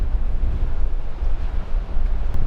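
Steady wind buffeting outdoors on a cold sandy beach by the sea in winter, a constant low rumble and hiss with gusty fluctuations, loud and close, no voices.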